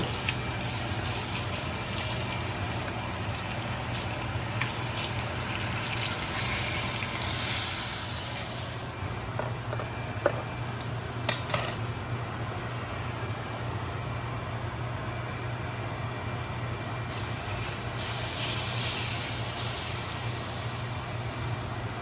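Steak pan juices with seasoning and butter are poured into a hot skillet, giving a steady, close, broad sizzling hiss that runs for over twenty seconds, with a few small clicks and clinks.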